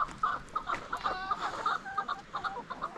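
Chickens cluck and chatter nearby in a steady stream of short, bright, repeated calls with a soft background murmur of further fowl, moderately loud and with no speech.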